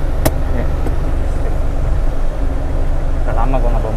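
A Daihatsu Taft 4x4 with a manual gearbox, driven on a test drive, gives a steady, loud engine and road drone with constant low rumble from the cabin, under talk.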